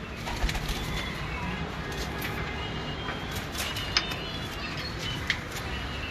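Pigeons cooing softly over a steady background hum, with a few faint sharp ticks and bird movements.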